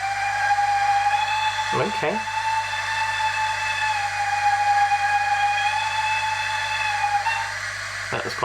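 Second whistle from a Hornby HM7000 sound decoder in a Collett Goods model locomotive, one long sustained shrill tone lasting about seven seconds over a hum, with a brief spoken word partway through.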